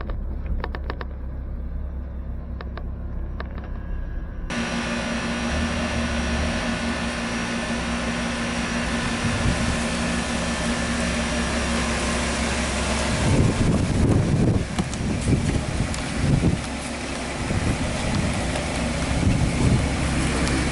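A Ford F100 pickup driving for the first time after sitting idle for seven years, with a loud, steady engine and road roar throughout and rougher rumbling and knocking toward the end.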